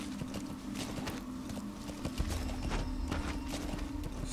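Hooves clip-clop in a rapid galloping rhythm as a horse is ridden in Metal Gear Solid V: The Phantom Pain, steady and mid-distance beneath a low hum of game ambience.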